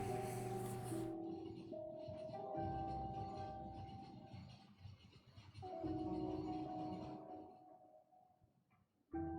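A train moving in the video game Factorio rumbles loudly with a steady low drone and tonal hum, swelling and easing across several seconds before dropping near the end, heard up close with no talk.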